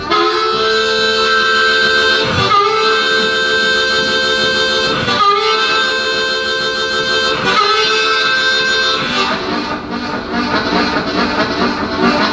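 Instrumental blues imitation of a T&P train, a steady dense harmonic drone with sharp rhythmic accents every couple of seconds, loud and continuous with no talking.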